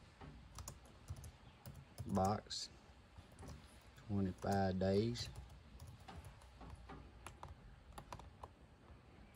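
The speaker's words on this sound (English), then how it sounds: "You'll have to bear with me with my typing." Quick keyboard typing, light clicks tapping in irregular bursts, with a person speaking briefly a couple of times over it.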